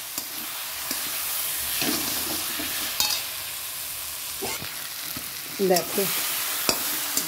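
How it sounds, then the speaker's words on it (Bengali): Mutton being stirred and sautéed in a pan for aam mouri mutton, with a steady sizzle and scraping spoon strokes throughout, and a brief word spoken. "কষাচ্ছি"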